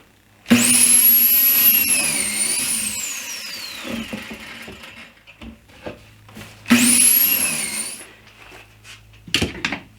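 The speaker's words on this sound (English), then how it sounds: "I am going to pocket hole screw the one side." A power drill drives pocket hole screws into wooden boards for a DIY patio cooler, with two long whining runs that rise and slow down, separated by quieter handling and shuffling of wood, and a short burst at the end.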